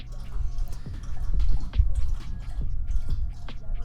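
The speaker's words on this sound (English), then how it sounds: "You can watch the dog drink some water." Dog lapping water, a run of wet, squishy laps and drips in an irregular rhythm, close and fairly loud with no talk.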